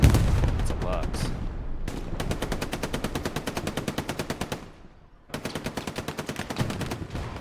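Sustained machine-gun covering fire in Hell Let Loose during a 35v35 match, with long regular bursts of rapid shots that break briefly near the end before resuming, close and loud with a rumbling battlefield bed.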